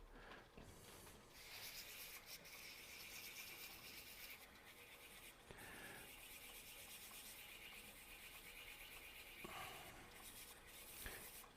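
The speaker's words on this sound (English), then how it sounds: "Sand it up." Sandpaper rubs against a spinning turned wood piece on a lathe in steady back-and-forth strokes, a close continuous scratchy hiss with a few short pauses and no talking.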